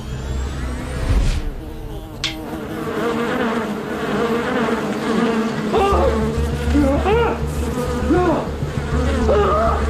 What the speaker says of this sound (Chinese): 死者一开灯，蜜蜂就会因为突然出现的灯光而狂躁